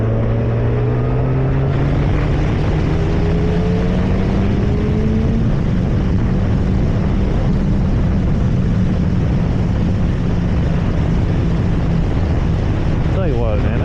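A motorcycle engine drones steadily and loudly throughout a test ride, its pitch gliding upward as the bike accelerates through the gears, with wind noise mixed in.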